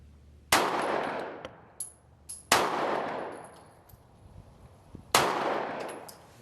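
Three loud, close gunshots from a Smith & Wesson CSX 9mm pistol at a shooting range, spaced a couple of seconds apart, each with a sharp crack and a long reverberant tail, plus faint clanks between them.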